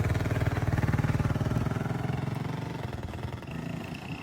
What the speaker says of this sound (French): Con la moto de carrera.